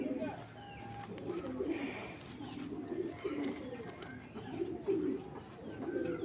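Racing pigeons cooing softly in repeated low throaty phrases across several seconds, close by, with someone talking over them.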